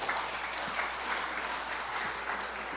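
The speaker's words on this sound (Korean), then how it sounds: "나오실 때 큰 박수로 한번 맞이했습니다." Audience applause greets a guest lecturer at a retreat for retired church elders, a steady, dense wash of clapping that holds evenly for the whole moment with no voices over it.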